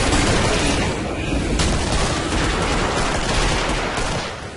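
Dense, loud, continuous gunfire in the video game Killing Floor, rapid automatic bursts merging into a sustained roar that fades slightly at the end.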